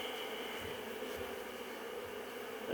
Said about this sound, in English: Oh, there's a lot of bees here.